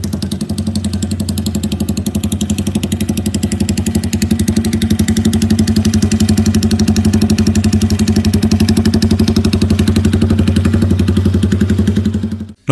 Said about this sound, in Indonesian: langsung kita dengerin suara dari knalpot GPX Legend